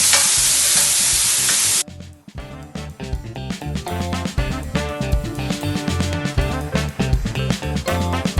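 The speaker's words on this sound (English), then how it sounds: "I'm gonna put those in. Those are gonna pop. We want them to get a little sear and char on them." Halved grape tomatoes hit a hot pan for searing, opening with a loud burst of sizzle that cuts off, followed by rhythmic clanks and bumps of stirring over quieter frying.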